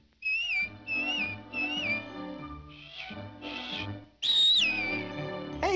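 Someone whistles a tune, a series of short melodic notes followed by a longer rising phrase, close and clear over soft accompaniment.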